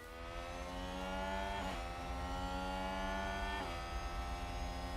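Steady, droning whine of Formula 1 car engines in the game F1 Manager 2022, harmonic and constant, with two brief gear-shift dips in pitch; no talking.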